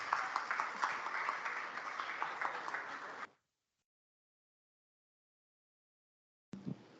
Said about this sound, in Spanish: le pido un aplauso